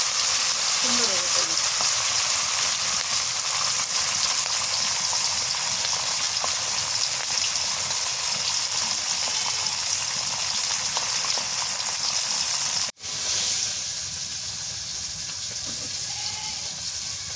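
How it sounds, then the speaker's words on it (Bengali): Sarpunti fish fried in hot oil, a loud, steady close-up sizzle and hiss that runs without a break, dips sharply for a moment, then carries on slightly softer. "তেল গরম হয়ে গেছে মাছটা দিয়ে দিই একটা করে"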